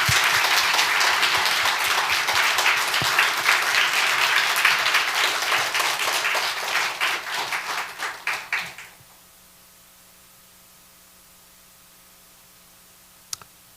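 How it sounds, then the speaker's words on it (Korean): Congregation in a church in Sejong clapping together in thunderous, sustained applause that holds steady for about eight seconds, then thins into scattered claps and stops abruptly, leaving near silence. "우리 정말 우레와 같은 박수로 한번 격려하기 원합니다"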